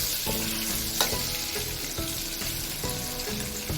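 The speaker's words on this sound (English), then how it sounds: "Stir and let it fry until the sausages have browned." Sausages and Oriental fried spice frying in a pan while being stirred, a steady close sizzle broken by repeated scraping strokes of the spoon against the pan.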